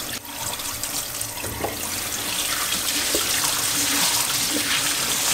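Running water pours steadily through a sieve as buckwheat is rinsed, a continuous close splashing rush with faint clinks and no talking.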